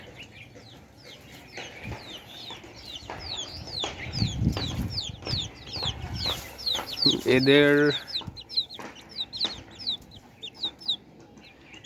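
Chickens and young chicks cluck and chirp repeatedly at close range on a home poultry setup, with a burst of wing flapping and a louder squawk partway through, while a person speaks briefly.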